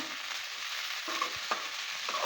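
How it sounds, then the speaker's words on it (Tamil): Okra (vendaikkai) stir-fries in a pan with a steady, close sizzle, broken by a few brief scraping strokes as the pieces are turned over. "நாலா பக்கமும் இந்த மாதிரி பெரட்டி போட்டு வதக்குங்க"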